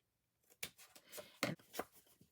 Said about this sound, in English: So now I'm gonna trim this off from behind.